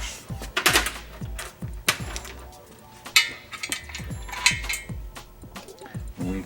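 A 1.3L Suzuki Samurai engine block is rotated on an engine stand during a rebuild, giving irregular metallic clunks and clicks at close range.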